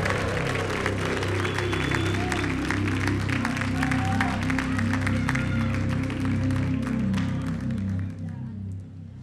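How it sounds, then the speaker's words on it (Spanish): A studio audience applauds and cheers a singer on a televised singing duel, with continuous loud clapping over a low musical bed, tapering off near the end. "Señores, fuerte el aplauso para Tiffy de Quilmes."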